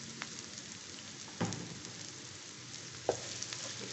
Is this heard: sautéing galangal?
yes